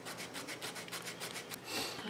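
Steady dry rubbing and rasping of sanding a cork stopper for an antique liquor decanter, a close abrasive scrubbing repeated in quick strokes with no talking.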